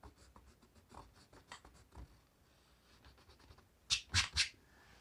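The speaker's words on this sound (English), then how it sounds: "I'm going to go ahead and erase lines that I don't need" Pencil drawing being erased on paper: soft, faint scratchy rubbing strokes in a quiet room, ending in three louder, brisk scrubbing bursts close by.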